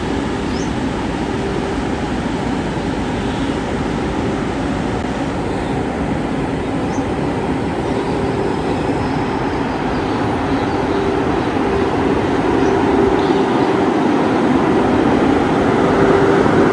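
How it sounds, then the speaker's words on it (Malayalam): A blue H2-branded hydrogen train, India's first, at a station: a steady, loud low rumble and hum of the train pulling in and settling, continuous throughout with no talk. "അപ്പോൾ നമ്മുടെ ട്രെയിൻ വന്ന് ഇവിടെ നിന്നു"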